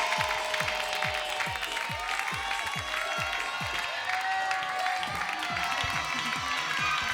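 Lively studio audience applause on an Indonesian TV music show, many hands clapping steadily at a fairly loud level, a few faint voices mixed into the crowd noise.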